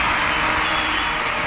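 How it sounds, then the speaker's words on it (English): Applause from a crowd, played as a sound effect during a live game stream, fills the whole moment as a dense, steady clapping wash at fairly close, loud level. "Hey, round of applause"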